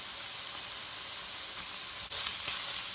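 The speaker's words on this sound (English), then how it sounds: "Fry this in low flame till the carrot and beans are soft." Carrot, beans and curry leaves frying in a pan over a low flame give a steady, close sizzle that runs without a break, with no talking.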